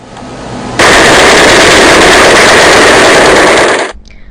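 A loud, sustained burst of rapid machine-gun fire in an animated scene starts abruptly and rattles continuously for about three seconds before cutting off.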